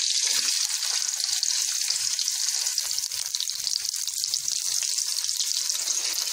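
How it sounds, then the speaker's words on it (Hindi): Onions fry in half a cup of cooking oil in a kadai, giving a loud, steady sizzle with a dense, even crackle from start to end and no talking. "इसमें हमने आधा कप कुकिंग ऑयल आपने डाल देना है। उसके बाद हम इसमें प्याज ऐड करेंगे।"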